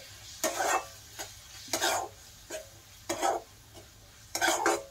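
A spatula scrapes in repeated strokes through masala frying in a pan for roti noodles, with soft sizzling beneath the rhythmic stirring and no voices.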